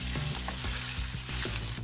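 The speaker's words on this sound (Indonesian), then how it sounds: "Dia menggoreng keripik tortilla jagung" Corn tortilla chips fry in hot oil with a dense, close crackling sizzle that never lets up, marked by occasional sharper pops.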